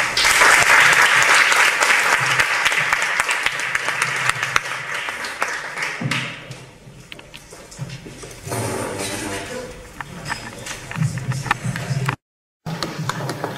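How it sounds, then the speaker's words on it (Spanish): Dense audience applause greets a speaker at a talk on Bach flower remedies, loud at first, then fading and swelling again before cutting off abruptly. "Un aplauso para él."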